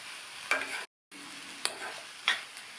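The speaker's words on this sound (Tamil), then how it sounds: "எல்லாத்தையும் நல்லா ஒன்றா மிக்ஸ் பண்ணி விட்டுறலாம்" An amaranth stem and toor dal stir-fry is stirred in a pan, with a few sharp scrapes and clinks of the spoon over a soft sizzle, close and fairly quiet, broken by a brief silent gap.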